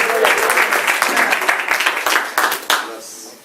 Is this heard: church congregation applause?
yes